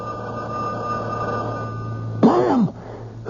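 Telephone ringing in a tense radio drama: a steady electronic tone hums through most of the scene, then a loud burst of ringing breaks in near the end before dropping back to the hum.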